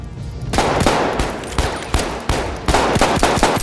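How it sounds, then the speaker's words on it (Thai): A Luger P08 pistol fires in a World War I video game, giving about eight or nine loud, sharp shots in quick succession that each ring out close to the listener. "ปืนที่ 4 ครับปืนลูเกอร์พีศูนย์แปด"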